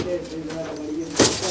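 Pigeons kept by a Punjabi fancier give soft, low cooing close by, mixed with a brief flutter or rustle near the end, and someone talks over them.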